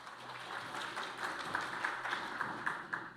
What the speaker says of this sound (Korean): 힘찬 성원의 박수 부탁드립니다